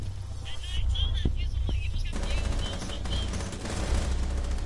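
Rapid gunfire bursts ring out in a Rainbow Six tactical shooter, close and fairly loud, with scattered sharp shots early and a denser automatic stretch afterward.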